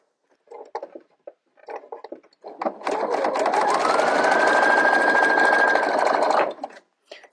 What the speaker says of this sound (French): quand on coud à la machine à coudre, on peut utiliser des marges un peu plus grandes